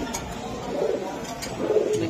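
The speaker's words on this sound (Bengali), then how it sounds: "এই যে কবুতরগুলো সারলো ভাই" High-flying giribaz racing pigeons coo close by in a loft, two low rolling coo phrases rising and falling over a quiet background.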